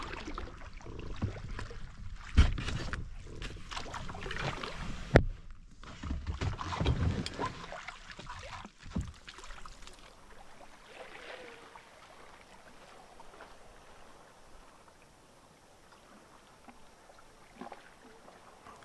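An ocean kayak paddles along the Nova Scotia coast, with splashing strokes and water movement close by, busier at first and then quieter, lapping water and light wind noise, and no speech.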